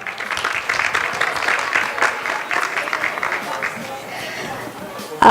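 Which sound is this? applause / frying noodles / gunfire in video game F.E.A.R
applause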